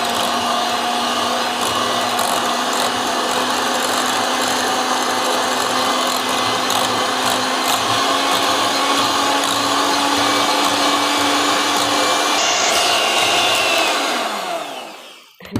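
An electric hand mixer beats a half-ghee, half-butter cookie dough mixture, a loud steady motor whine running unbroken at close range before winding down abruptly at the end.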